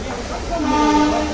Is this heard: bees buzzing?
no